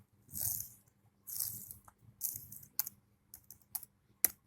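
Bursts of clicky typing on a computer keyboard while entering HTML list code, quick clustered keystrokes in short runs separated by brief pauses, close and fairly crisp with no talking.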